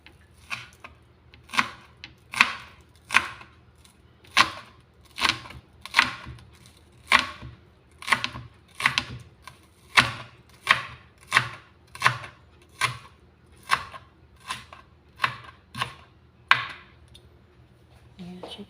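Knife slicing garlic and onion on a cutting board while preparing steamed egg: a steady series of about twenty crisp, evenly spaced chops, close and clear.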